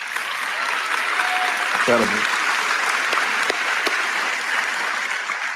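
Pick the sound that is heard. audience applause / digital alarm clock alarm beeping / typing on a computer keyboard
audience applause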